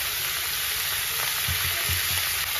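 Spices with salt, turmeric, chopped green chilli and ginger sizzle in hot oil in a pan. A steady, close frying hiss runs throughout, with a few soft stirring scrapes near the end and no talking.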